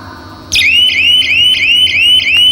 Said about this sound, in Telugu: అది డిటెక్ట్ అవ్వగానే ఇంజిన్ ఆఫ్ అయిపోయింది, బజర్ మోగుతూ ఉంది.